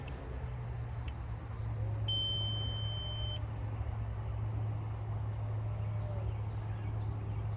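An RC flight timer beeps during a flight of a Freewing 64mm EDF F-16 jet, a thin electronic tone holding for about a second over the steady roar of the ducted fan, with further faint tones after it.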